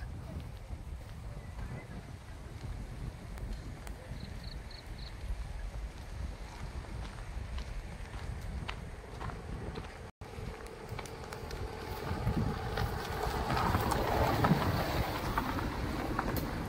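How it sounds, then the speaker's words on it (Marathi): Steady wind rushes across Awas Beach on the Konkan coast, a broad low rumble that grows louder toward the end, with a voice talking intermittently. "तुम्हाला वाऱ्याचा आवाजही ऐकू येत असेल कदाचित."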